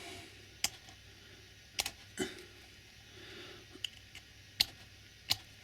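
Small sharp clicks of a cutter snipping the chairs off model railway track sleepers, about six or seven crisp snips spaced irregularly over quiet room tone, close and fairly soft.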